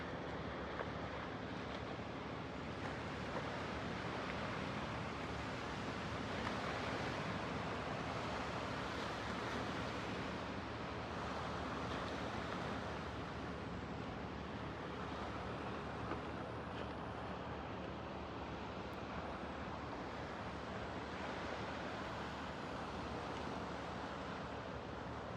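Steady wash of sea waves with a constant windy rush, broad and continuous, no voices, a faint engine-like hum low underneath from a nearby lobster boat.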